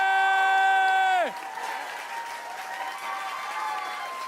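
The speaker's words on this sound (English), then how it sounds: "let's give a big round of applause to Felicia Day!" An audience at a Comic-Con convention applauds a speaker, and the clapping goes on as a steady crowd wash for several seconds. A sustained musical chord plays over the start of it and cuts off.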